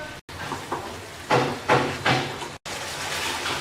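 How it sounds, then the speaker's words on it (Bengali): Spice paste for a Bangladeshi olive pickle, with vinegar and salt, being sautéed in a pan: a steady hiss with a few louder sizzling surges as it is stirred, close and alone. "এবার মশলাটাকে ভালো করে কষিয়ে নেব"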